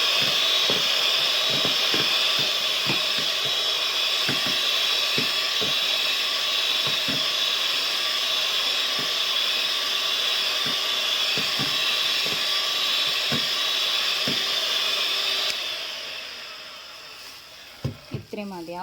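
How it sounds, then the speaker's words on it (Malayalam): Electric hand mixer beating egg yolks with vanilla essence and sugar into a batter, a steady close whirring drone with faint rhythmic knocks of the beaters against the bowl, easing off near the end. "നന്നായിട്ടൊന്ന് ബീറ്റ് ചെയ്തെടുക്കുക കേട്ടോ"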